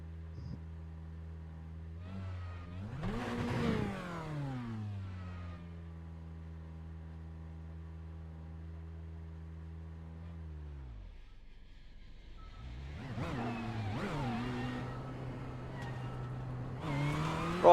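Ferrari 488 GTE race car at Sebring in the iRacing simulator, engine revving up and down through gear changes, a sustained tone dropping away to near quiet before climbing again with sharp bursts.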